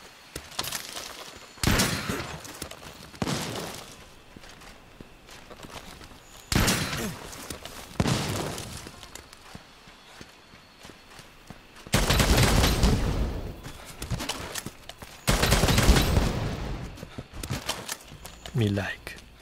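Monster Hunter bowgun firing in a video game, with Evading Reload and Wyvern Blast counter mods: bursts of loud gunfire-like blasts come in several clusters, some heavy and sustained, separated by quieter gaps.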